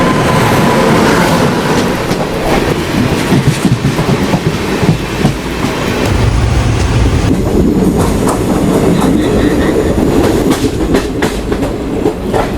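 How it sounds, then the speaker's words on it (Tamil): The Island Express, an Indian passenger train near Thrissur on the Pollachi to Guruvayur line, thunders past close by with loud continuous rumble and rhythmic clickety-clack of wagons over the rails, steady throughout with faint wheel squeal. "நம்ம ஐலாண்ட் எக்ஸ்பிரஸ் வந்துட்டு இருக்குங்க"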